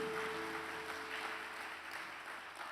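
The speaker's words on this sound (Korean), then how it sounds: "하나님께 영광의 박수 올려주시기 바랍니다." A church congregation applauds with steady, moderately loud clapping that slowly tapers, and a sustained musical tone hums beneath it.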